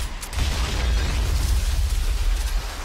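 A grenade blast in PUBG, a deep rumbling explosion that swells quickly and rolls on for a few seconds, loud and alone.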